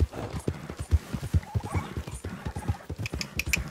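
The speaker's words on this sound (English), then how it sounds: "Boy, I ride this horse hard." A horse gallops in Red Dead Redemption 2, hooves pounding in a fast, steady clip-clop rhythm, close and loud throughout.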